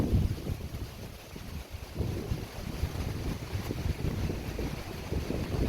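Strong wind buffets the microphone outdoors beside a truck being fitted with a sleeping platform, a loud steady roar with gusty low rumbling throughout and no voices.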